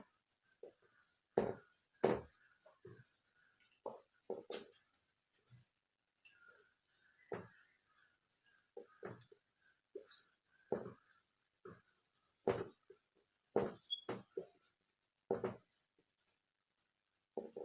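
Handwriting during a chemistry lesson: a steady run of short scratchy pen strokes, close and fairly quiet, with brief pauses between words and no talking.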